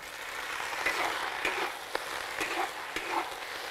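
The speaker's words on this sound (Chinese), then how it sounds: "下葱姜蒜、干花椒、干海椒爆香，倒菜" Scallion, ginger, garlic, dried Sichuan peppercorns and dried chilies fry in hot oil in a wok for a Sichuan dish. A steady sizzle runs throughout, broken by regular clacks and scrapes from stirring, with no voices.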